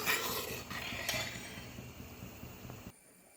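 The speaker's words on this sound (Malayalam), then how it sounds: "ഇനി ചെറുതായിട്ടൊന്ന് ഇളക്കി കൊടുക്കാം" Boiling jaggery syrup for prathaman is stirred in a pan, giving soft bubbling with a few metallic scrapes and clinks of the spoon that fade out near the end.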